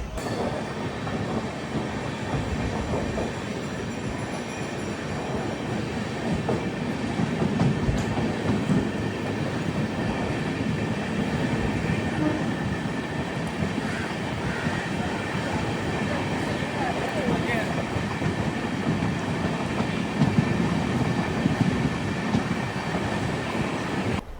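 Sleeper train rolling steadily on rails, a continuous loud rumble with faint clickety-clack from the wheels, heard from inside a carriage on a Bengaluru to Dharmasthala run, swelling slightly toward the end.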